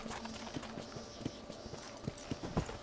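A horse's hooves clip-clop in a steady walking rhythm in the video game Red Dead Redemption, close and fairly quiet, with a few faint snorts.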